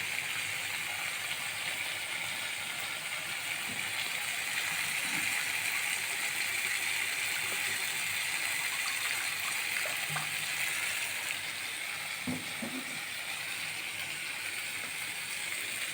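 Water poured into a pan of fried spice masala sets off a loud, sustained hissing sizzle with steam, a dense bright roar holding steady throughout, with occasional faint clinks of the pan.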